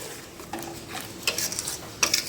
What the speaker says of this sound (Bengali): এইটা দিয়ে ভালো করে একটু নাড়াচাড়া করে নেব